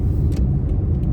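Toyota iQ city car driving through Liverpool streets, heard from inside as a steady low road and engine rumble, continuous and fairly loud with no talk.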